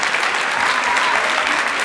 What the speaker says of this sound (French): Moi, je pense qu'on devrait applaudir l'organisation de l'UQAM pour le support aux familles.